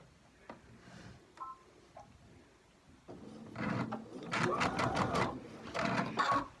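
Sewing machine stitching quilt block triangles, corners fed in first, runs in several short loud bursts of rapid motor whir after a few quiet clicks and taps, with no talking.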